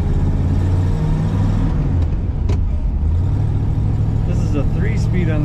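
A 1955 Ford Thunderbird convertible with a three-speed floor shifter driving along, its engine a steady low drone with road and wind noise, and a brief higher whine near the end.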